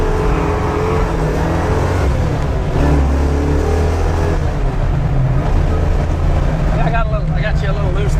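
A Mercury Comet car engine runs with a low, steady rumble, close by and continuous, while people talk over it.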